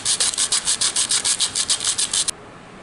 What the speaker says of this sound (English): sand it like that.